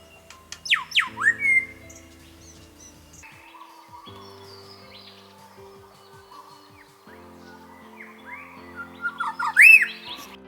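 A grey shrike-thrush of the Kimberley subspecies calls in the bush, giving rich whistled notes and squawky phrases with quiet gaps between, nearby and clear with no voices.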